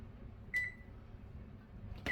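A kitchen oven gives two short, clear electronic beeps while being set to preheat for a ricotta mango pie, the tones spaced about a second and a half apart over a quiet room hum.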